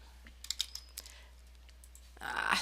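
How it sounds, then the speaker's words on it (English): Computer keyboard typing while entering text into an Excel spreadsheet: a brief, quiet burst of several light key clicks, then a rising rustle near the end. "then you're going to type June commercial"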